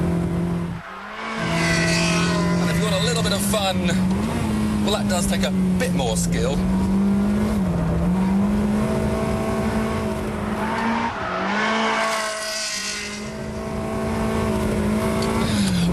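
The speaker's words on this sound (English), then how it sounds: "you hear the sensation of that engine behind you" Ferrari 360 engine roaring steadily behind the driver, sustained loud revving with rear wheels spinning and squealing, continuous throughout while someone talks over it.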